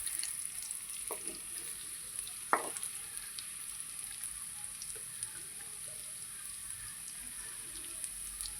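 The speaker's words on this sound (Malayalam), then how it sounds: "അടുത്തതായി നമുക്ക് ഫ്രൈ ചെയ്ത് വെച്ചിരിക്കുന്ന മീനെല്ലാം ഇട്ട് കൊടുക്കാം. വളരെ പതുക്കെ ഇളക്കി കൊടുക്കണം." Fried sardines gently stirred into a simmering curry, with a steady soft sizzle throughout and a few faint scrapes and taps of a spoon against the pan, one slightly louder knock near the start.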